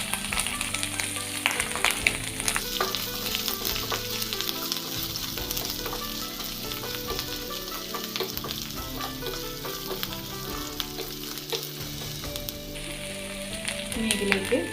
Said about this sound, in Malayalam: വെളുത്തുള്ളി ചതച്ച് വെച്ചത് കൂടെ ഇട്ട് കൊടുക്കാം. കൂടെ ഒരു കഷ്ണം ഇഞ്ചി ചതച്ചത് ഇട്ട് കൊടുക്കാം.